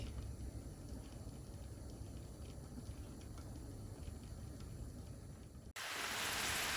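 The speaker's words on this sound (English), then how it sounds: "So I've added my steak to my olive oil" Pepper steak sizzles in hot olive oil with garlic, onion and seasoning, a steady hissing crackle heard up close that cuts briefly and then returns louder.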